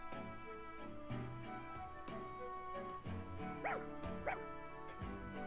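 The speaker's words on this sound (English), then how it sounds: "Ooh, we can look at the doggy." A dog in Fire Emblem Engage yips and barks a few times near the end. The barks sit over a steady game music track.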